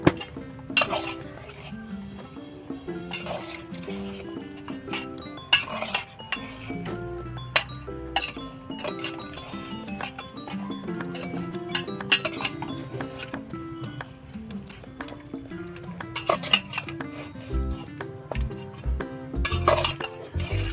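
Mutton is stirred in a pot over a wood-fired stove for a village-style spicy mutton curry, with irregular clinks, scrapes and knocks of spoon against metal at moderate level.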